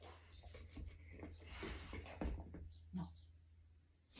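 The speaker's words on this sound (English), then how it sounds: "You can listen to my dog talk to you." A female dog whines and vocalizes in short, faint, high-pitched bursts at close range in a quiet room, with a few soft jingling sounds between them.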